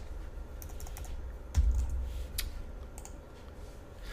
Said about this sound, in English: So let me type first of all WPF events.